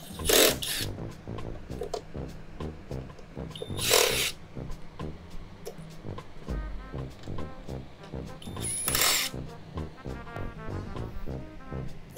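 Screws are backed out of the battery compartment of an EGO mini bike with a number 2 Phillips driver, with rapid ticking clicks from the driver broken by three short louder bursts of whirring, close up.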